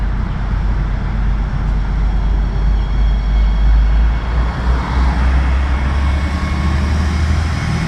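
A diesel-powered River Line light rail train on an interurban route in New Jersey rumbles past with a heavy, continuous low drone and broad rushing noise, steady and fairly loud throughout.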